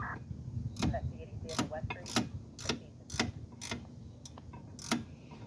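Ratchet tightening a bolt on the rear brakes of a 2009 Ford Fusion during a rotor and pad replacement, giving a series of sharp, evenly spaced clicks close up, with low background noise and no speech.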